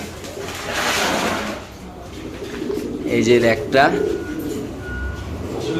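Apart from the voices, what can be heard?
pigeons cooing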